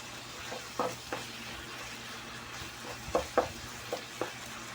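Beef tapa cut in large pieces simmers in its own released oil in a pan, a steady soft frying hiss with a few sharper pops and crackles scattered through it, fairly faint and with no talk.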